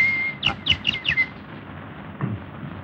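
Birds in a forest, a quick burst of four or five high chirps in rapid succession, fairly close and clear over a low background hum, followed by quieter ambience.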